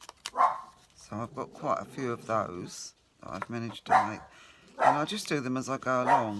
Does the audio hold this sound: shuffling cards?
no